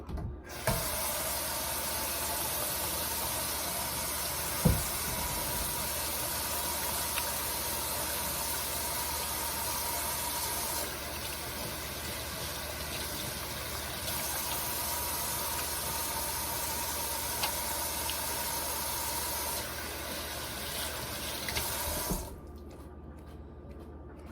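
Hands being washed with antibacterial soap under a running tap in a home kitchen, a steady close hiss of flowing water that runs nearly unbroken for about twenty-two seconds before cutting off.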